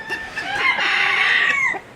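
A flock of chickens, including a smoke-grey hen, clucks and calls up close in one loud, continuous burst.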